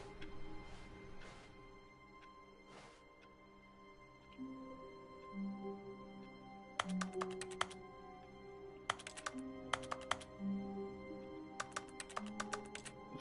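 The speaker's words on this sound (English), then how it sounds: "Looks like I'm pressing the keyboard." Keys are typed in The Stanley Parable, a quiet office setting: soft scattered key presses at first, then several short bursts of rapid clicking typing over a faint steady background tone and low ambient music.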